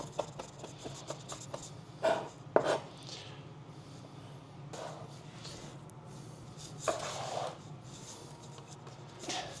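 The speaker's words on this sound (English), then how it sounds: "We'll give this a chop." A kitchen knife chopping food on a cutting board while making a condiment, a few sharp clustered thuds with quieter scraping and rubbing in between.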